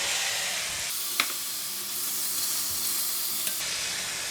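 Pork belly pieces hit a hot pan lightly wetted with cooking oil and sizzle steadily close by, a bright continuous frying hiss with a couple of small clinks, no talking.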